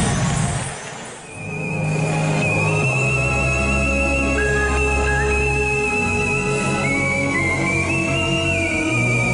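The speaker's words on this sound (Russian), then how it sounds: "аби тільки цей свист був талановитим" A melodic human whistle performed on a talent show stage carries a tune over a steady low hum and rumble, the pitch sliding and holding across several phrases.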